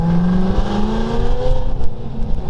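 A 900HP full carbon fiber Revenge GT supercar roars close by as the driver lifts off the gas, with the engine note dropping and short crackling pops breaking out from the exhaust.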